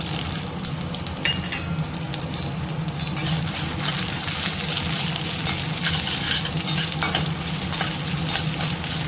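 Ginger, green chillies and garlic sauté in a pan for banana stem chutney, with a steady loud sizzle and frequent scraping stirs of a utensil against the pan throughout.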